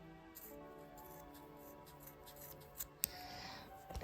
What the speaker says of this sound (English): I'm going to get my scissors. This is going to take a while because these are little snippy scissors